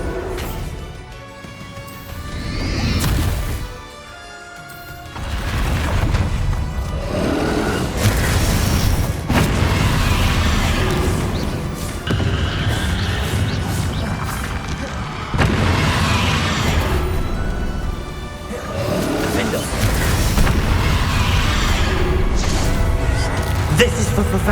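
Heavy booms from a Bombarda blasting spell thunder through a loud Hogwarts Legacy battle, repeating as big rumbling bursts over a constant roar of game effects.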